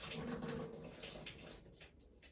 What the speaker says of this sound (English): I'm just going to pour off the water in the basin.